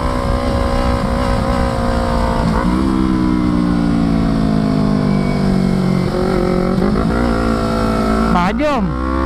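A motorcycle revs hard at full throttle during a Sunday-morning race at Wadaslintang reservoir, the engine droning loud and close with rising and falling pitch as it shifts and accelerates, while a voice speaks over it.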